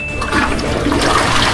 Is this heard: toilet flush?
yes